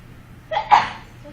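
One short, sharp sneeze from a person in a classroom, sudden and fairly close against a quiet room hum.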